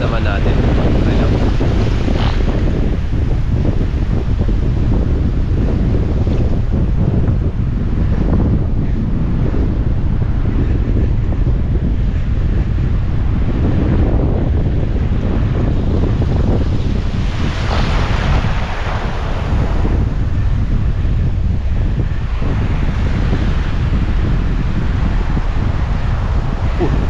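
Ocean waves and strong wind at a seaside fishing spot, a loud, constant roar of buffeting wind over breaking surf with swelling wash, no voices heard.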